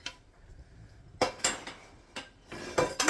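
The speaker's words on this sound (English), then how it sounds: "mix her in, Jack" A spoon stirs canned corn into food in a bowl, giving scattered metallic clinks and scrapes against the dish in uneven bursts, fairly quiet and without speech.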